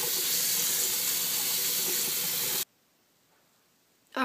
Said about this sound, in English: with some lukewarm water, we're just going to clean off the roots as best we can.